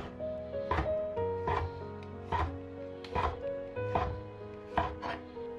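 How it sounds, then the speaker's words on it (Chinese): A knife chops chicken breast into small pieces on a board, making about seven sharp, evenly spaced thuds, close and clear over faint background music. "然后把肉切成条状， 最后把肉全部切成小块。"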